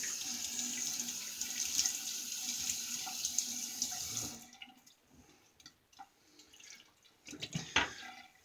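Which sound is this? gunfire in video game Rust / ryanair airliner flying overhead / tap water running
tap water running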